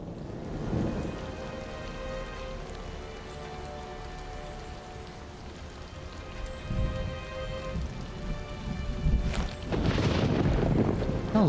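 Steady heavy rain pours in a video game storm, with a rumble of thunder swelling near the end; no voices.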